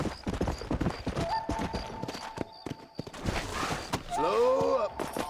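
Horse hooves clip-clop in a steady rhythm through a game scene in Red Dead Redemption, with busy background sound, then a loud, wavering horse neigh rises near the end.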